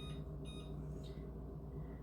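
A kitchen timer being set, with a few faint short electronic beeps early on over a low steady hum.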